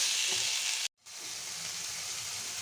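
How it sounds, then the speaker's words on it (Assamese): Potatoes and peas with spices hiss and sizzle loudly in a frying pan as they are stirred, a dense steady fry that cuts out abruptly for a moment before resuming. "এইখিনি এনেকৈ মিহলাই একেৰাহে লৰাই থাকিম যেতিয়া মছলাখিনি আলু আৰু মটৰৰ লগত একেলগে মিহলি যায়।"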